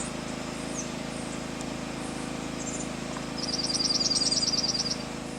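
Small junco birds give a brief run of high, rapid chirps partway through, a quick trilling burst over a steady outdoor background hum.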